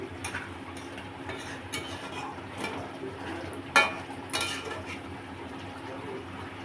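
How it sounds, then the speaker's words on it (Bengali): Chicken being stirred in a pot as it cooks in its own released juices: soft, irregular scraping and clinks of a utensil against the pot, fairly quiet, with a few sharper knocks. "আমি এখন নাড়তে থাকি, পরে জল দেবো।"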